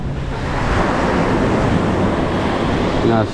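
Surf rolls in at Es Canar beach in Spain, a loud, continuous wash of waves mixed with heavy wind buffeting the microphone, without any clear talk.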